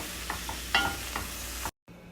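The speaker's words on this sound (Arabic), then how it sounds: "نزلت الدجاج وراح احمسه عدل معاه لغاية ما ينضج الدجاج تماما." Chicken pieces fry and sizzle in a pan while being stirred, with a few distinct scraping strokes over a steady hiss before the sound cuts out abruptly.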